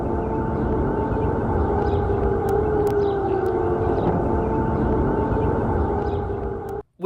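Air raid siren sounding just before dawn in Baghdad, a steady, loud, sustained wail that holds for several seconds and then cuts off abruptly, with no talk over it.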